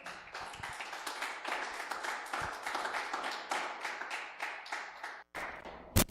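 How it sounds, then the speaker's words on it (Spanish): Church congregation clapping together for about five seconds, a dense steady patter of many hands in a reverberant hall, then a brief pause and a final louder clap or thump near the end. "Den un aplauso al Señor."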